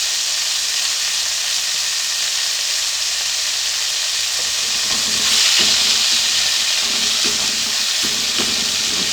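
Beef pieces frying in a pot over a low flame while being stirred: a steady soft sizzle throughout, with scraping and stirring clatter building in the second half, close and alone without voices.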